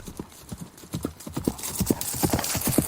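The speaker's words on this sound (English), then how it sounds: "he spurred his horse onward to help" Horse hooves clip-clop in a steady, quickening rhythm of a mount being spurred to a gallop, close and growing louder over about three seconds, with no voices.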